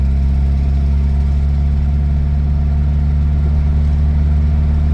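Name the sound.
car engine running while driving in fourth gear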